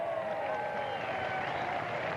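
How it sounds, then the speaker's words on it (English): Baseball fans at a Winnipeg Goldeyes versus Saint Paul Saints game applaud a called strike with a brief, steady patter of clapping across the stands, soft and fairly distant, while a voice carries over the top. "the fans, I don't know if they're mockingly applauding the strike thrown by Hardy or called by home plate umpire Hicks"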